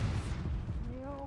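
A Confringo fire spell blasts in Hogwarts Legacy with a deep, rumbling explosion close up, followed by a rising whine as it fades, with a voice nearby.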